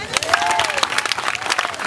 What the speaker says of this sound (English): Everybody clap your hands, whatever. Clap your hands.